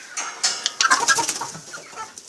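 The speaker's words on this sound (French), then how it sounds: "J'ai une Alsace dorée, une jeune poupoule." A young golden Alsace hen clucks in a quick series of short, bright calls at close range, with some faint clattering behind.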